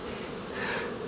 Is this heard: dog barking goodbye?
no